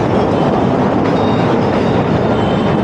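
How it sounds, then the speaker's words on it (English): A train rolls overhead on elevated tracks in Chicago, a loud, steady rumble with rattling wheels that holds without a break through the whole stretch. "You guys get a cool view of the train"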